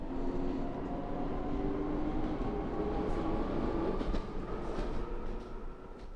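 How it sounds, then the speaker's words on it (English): A train pulls into a station in the game Minecraft with a steady rolling rumble and faint squealing tones, holding loud before easing off slightly as it arrives. "Looks like here it comes, first train."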